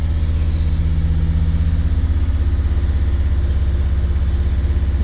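A Mercedes T1N Sprinter diesel engine with a repaired injector leak runs steadily at about 1800 RPM, giving a loud, close, even drone with a constant low throbbing pulse and no voices.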